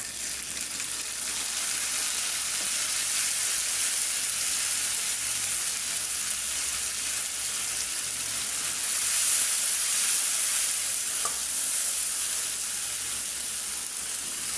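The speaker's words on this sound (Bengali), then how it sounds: "পেঁয়াজগুলো একটু লাল লাল হলে আদা রসুন দিয়ে কষায়" Onions, ginger and garlic sizzling in hot oil, a steady loud frying hiss that runs the whole time with faint stirring, no talk.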